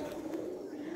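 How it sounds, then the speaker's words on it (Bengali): Pigeons cooing in a crumbling palace ruin in Murshidabad district, a steady low murmur of several birds close by, with faint voices in the background. "প্রচুর পায়রা এখানে বাস করছে।"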